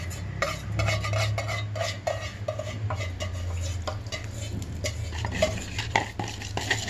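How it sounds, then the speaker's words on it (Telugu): Basmati rice is stirred into a biryani pot, a spoon scraping and clinking against the metal in quick repeated strokes over a low background hum, moderately close and without speech. "బాస్మతి రైస్ వేసాము. ఈ రైస్ అంతా వేసేసుకోవాలి."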